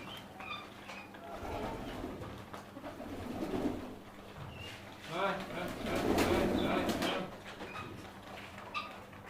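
Pigeons coo softly and repeatedly while eating a grain feed mix, with pecking and scattered bird sounds close by and a steady low hum beneath.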